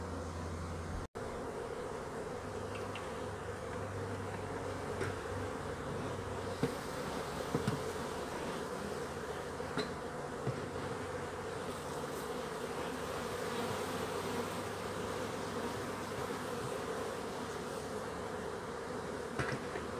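Honeybees buzz steadily at an open hive used as a resource hive for drawing out frames, a dense continuous drone filling the whole stretch without talk.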